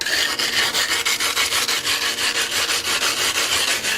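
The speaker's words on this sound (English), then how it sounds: "taking the grit and working the corners" Glass pieces are ground by hand with loose abrasive grit to give a matte surface for fusing, working each corner: a steady, close, loud rasping scrub in fast regular strokes, with no voices.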